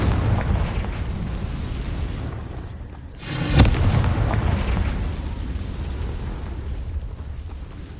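The Confringo fire spell from Hogwarts Legacy bursts in a single loud blast midway, rising out of a continuous rumbling game background that carries on around it.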